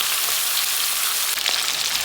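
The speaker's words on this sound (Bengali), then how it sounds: "এই যে গোশটা ভাজা হয়ে গেছে, তুলে নিব।" Chicken pieces fry in a pan as part of a home chicken recipe, giving a steady, close sizzle with a brief clatter partway through and no talking.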